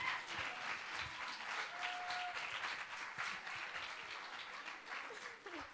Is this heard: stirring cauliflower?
no